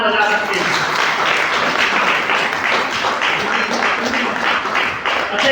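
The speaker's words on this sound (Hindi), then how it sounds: "अच्छा, ये दोबारा से जोरदार तालियां मैंने इसलिए बजवाई क्योंकि अभी डॉक्टर चौहान जी ने डायमंड क्लब" A large indoor audience breaks into loud, sustained applause, dense clapping that holds steady for several seconds.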